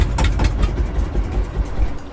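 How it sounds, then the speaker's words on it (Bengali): A river boat's engine pulls away from a ghat on the way to Kazipur, producing a low, continuous throbbing rumble that is fairly loud and close. "এখান থেকে আমার নৌকা ছাড়লো অন্য ঘাটের উদ্দেশ্যে।"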